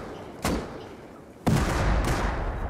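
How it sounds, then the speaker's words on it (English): Rockets fired during a raid in the survival game Rust: two heavy launch blasts about a second apart, each followed by a sustained rumbling roar, with no talking. "They're firing rockets back."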